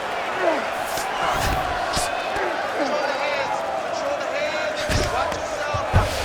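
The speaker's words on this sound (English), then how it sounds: "So the crowd absolutely loving it" A video game crowd in UFC 5 on PS5 roars and cheers continuously beneath an excited commentator's voice during a McGregor vs Nurmagomedov fight, with occasional thumps and swells in the noise.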